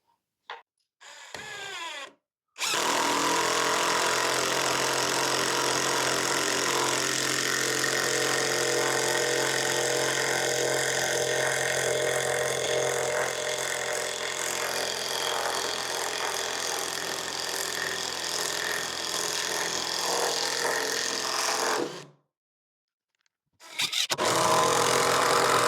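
A power tool drives traditional lag bolts into timber, a loud, sustained droning whir lasting around twenty seconds, followed by silence and a short final burst as a bolt is snugged tight.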